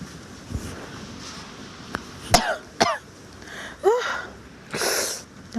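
Several separate coughs and throat-clearing sounds from a person during Ramadan fasting, short bursts spaced irregularly over a quiet background.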